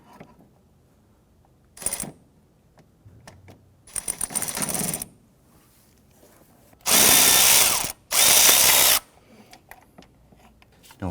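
Tool work on the valve cover bolts of a Nissan Frontier 4.0L V6, with short bursts of a powered driver spinning, several separate loud whirring runs of a second or two, light metallic clicks and quiet gaps between.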